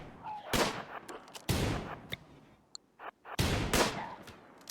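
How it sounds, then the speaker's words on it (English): A frag grenade going off in the colony-sim game RimWorld: three loud, sharp explosive bursts, each trailing off briefly, with smaller pops and crackles between them and no voices. "I might as well just frag grenade the other shambler down"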